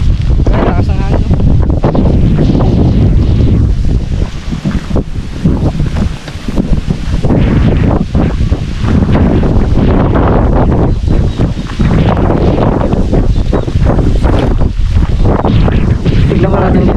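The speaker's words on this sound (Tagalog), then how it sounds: "Ay, lakas ang hangin." Strong wind buffets the microphone outdoors near a hut, a loud, continuous roar with gusty surges throughout, and voices are partly buried beneath it.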